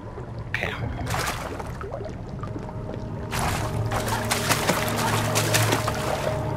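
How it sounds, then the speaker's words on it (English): Splashing through water in a horror video game, with irregular sloshing and pouring bursts that grow louder and more continuous in the second half. "Maybe I should stop splashing around a little."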